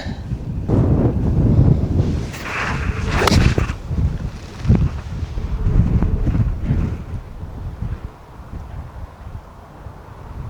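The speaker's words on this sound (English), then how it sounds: "it's windy" Strong gusting wind on a golf course buffets the microphone with a loud, continuous roar that rises and falls, easing off toward the end.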